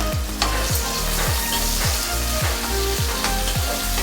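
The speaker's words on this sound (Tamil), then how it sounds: "எண்ணெய் சூடானது, சின்ன வெங்காயம், பெரிய வெங்காயம் 1, பச்சை மிளகாய் ஒரு 4 போட்டுக்குங்க." Shallots, a large onion and green chillies sizzle steadily in hot oil for sambar, with a spoon scraping the pan in a regular rhythm about every half second, loud and close.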